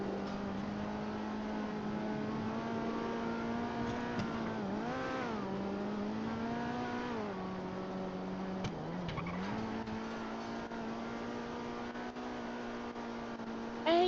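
Car engine in a video game held at a steady drone while driving slowly, with a couple of pitch dips and swells and faint tire noise, moderately quiet and alone.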